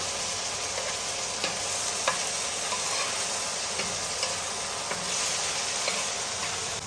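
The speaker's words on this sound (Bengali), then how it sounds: "এরকম ভাবে ভেজবে, লাল লাল করে ভাজবো" Goat head mutton pieces fry and sizzle in a pan until reddish, with a steady hiss and occasional scraping clicks of stirring, close and alone.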